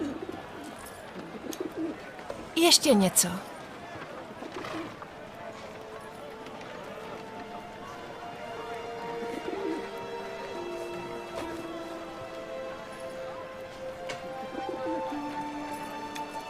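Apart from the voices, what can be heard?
pigeon cooing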